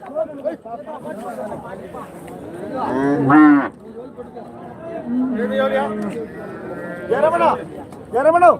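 Several cattle moo and low repeatedly at a weekly livestock market in Kundarapalli, Krishnagiri, some close and loud, with other animals bleating and people chattering in the background.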